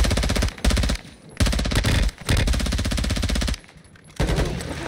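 Rapid automatic gunfire in the shooter game Warzone 2.0, loud and close, coming in sustained bursts broken by short pauses with no talking.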